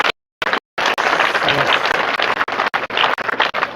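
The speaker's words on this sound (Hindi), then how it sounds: "तो जोरदार तालियां बजाइए।" Students applauding at a Mission Shakti awareness event, a dense burst of clapping from a crowd that starts abruptly and continues loud and sustained.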